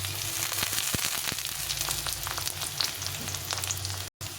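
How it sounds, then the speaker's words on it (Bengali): Carrots frying in oil with onion and garlic for fried rice made from leftover rice: a close, continuous sizzle with a few scattered stirring clicks, ending in a brief cutout. "এখন আমি গাজরটা দিয়ে দেবো, দিয়ে গাজরটাকে একটু ভেজে নিতে হবে।"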